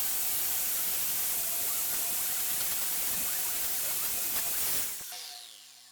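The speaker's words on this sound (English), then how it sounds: "let's have a go at this bit of rusty steel here with the wire cup and see what it can do" Angle grinder fitted with a wire cup brush scours a piece of rusty steel, making a loud, steady abrasive hiss that cuts off near the end and then winds down.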